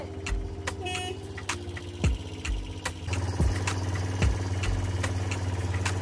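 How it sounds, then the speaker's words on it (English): Quad bikes ride along on a Greek island, engines running steadily with a rising, continuous drone and occasional thumps and bumps, no voices. "We decided to get on quad bikes and we rode all the way to Cabana"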